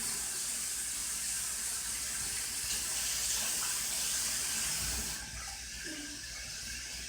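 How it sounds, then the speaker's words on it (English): A bathroom sink tap runs steadily as hands are washed, a soft continuous water hiss at moderate distance that drops slightly in level near the end. "Make sure you wash your hands."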